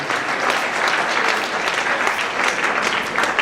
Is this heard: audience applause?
yes